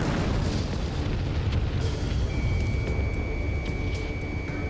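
A missile hits its target in the Ace Combat 7 flight game, and the explosion booms loud and rumbling over a steady jet roar, with a faint high tone joining partway.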